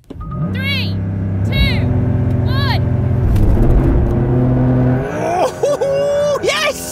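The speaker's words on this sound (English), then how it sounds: "let's see who can press the accelerator the hardest." Porsche 911 GTS hybrid and petrol 992 models launching side by side in a drag race, loud engines revving up through rising gear pulls with shifts, with voices shouting and cheering over them.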